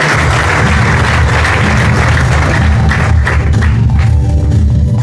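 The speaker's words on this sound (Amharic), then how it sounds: "ለጌታ ለኢየሱስ ክብር አጨብጭቡለት።" Loud, sustained applause from a church congregation at a deliverance service, steady dense clapping filling the space throughout with crowd noise and no speech over it.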